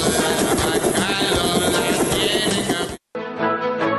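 A helicopter sound effect plays in a Spanish-language advert for a children's song, a loud continuous whir blended with music that cuts out briefly before resuming.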